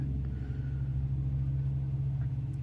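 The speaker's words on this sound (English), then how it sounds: "transport trucks driving by, noise" Transport trucks driving past outside produce a steady low rumbling engine drone, heard from a distance at moderate level and continuous throughout with no talk.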